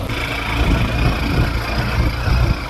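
A motorbike rides along the road toward Sahasradhara waterfall near Sitakunda, Chattogram, its engine droning steadily and fairly loud throughout with no pauses and no talk.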